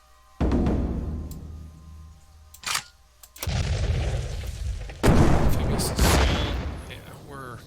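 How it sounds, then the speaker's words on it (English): Loud booming artillery fire from the Japanese side in the WWII card game KARDS, several heavy blasts with long rumbling tails, spaced a few seconds apart and standing out from the background. "God, the Japanese artillery is loud."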